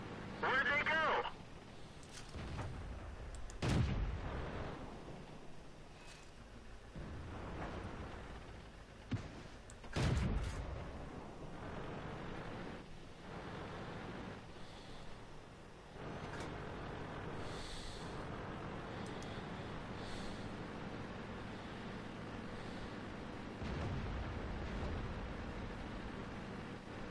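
Tank cannon fire in World of Tanks, with a few heavy booming shots spread far apart over a rumbling engine bed, while a voice speaks in short lines now and then.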